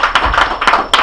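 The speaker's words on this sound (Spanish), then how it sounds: "Denle un fuerte aplauso al Señor." Congregation in a church giving a loud round of applause, dense overlapping hand claps with a few sharper bursts, continuous and near, with no talking.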